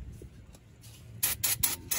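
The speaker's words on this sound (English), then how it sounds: "Spray some brake cleaner in this rotor so we don't have any brake dust in that" Short hissing sprays of brake cleaner aimed at a Toyota RAV4 rear brake rotor, several quick bursts close to the mic after a quiet start with faint rustling.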